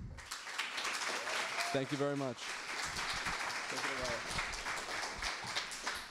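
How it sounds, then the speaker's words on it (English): Audience applause at a Fair Vote Canada event, a steady broadband patter of clapping running throughout, with a speaker talking briefly over it near the start and again in the middle. "Can I get a big hand of applause?"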